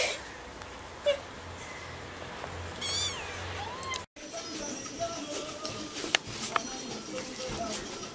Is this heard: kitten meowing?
yes